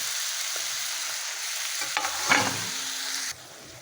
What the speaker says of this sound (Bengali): মটরটা ভালোভাবে মশলার সঙ্গে কষিয়ে ভালোভাবে নেড়ে চেড়ে